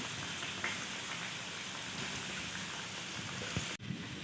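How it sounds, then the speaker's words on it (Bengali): Palm-fruit pitha frying in a generous pan of hot oil makes a steady, close, broadband sizzle with a faint crackle throughout and a brief soft clink near the end. "আমি তেলটা যেহেতু এখানে অনেক পরিমাণে হিট করে নিয়েছি, তাই একটু কমিয়ে দেব, কম আছে ভেজে নেব"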